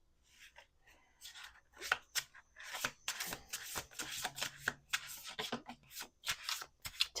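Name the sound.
shuffling a deck of cards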